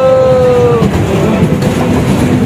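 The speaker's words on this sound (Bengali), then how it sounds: "আমরা সবাই উঠে পড়েছি, এখন ট্রেন চালু হবে।" A loud mechanical rumble of a small fairground ride train getting underway at a fair, with a brief high whistle-like tone at the start and steady rolling clatter.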